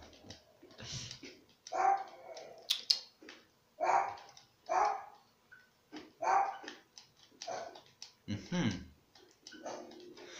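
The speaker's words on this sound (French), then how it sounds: "il y a mon chien qui aboie" A dog barks repeatedly in short bursts, fairly close, mixed in with a person talking over a light ticking.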